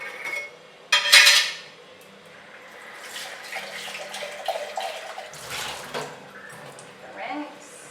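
Water runs into a kitchen sink while items are rinsed during cleanup after blender juicing, with clinks of cutlery and dishes and a brief louder splash near the start.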